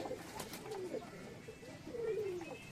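Giribaz and Madrasi pigeons in a home loft, some perched and some flying, give soft cooing calls with two drawn-out, falling phrases against a quiet room background.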